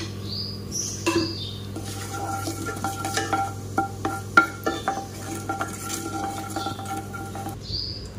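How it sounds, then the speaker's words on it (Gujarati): Mustard seeds and cumin spluttering in hot oil for a raw mango curry, a steady low sizzle broken by scattered sharp pops and crackles, close up, with a light clink of a pan or spoon near the end. "આપણા રાઈ જીરું મસ્ત તતડી ગયા."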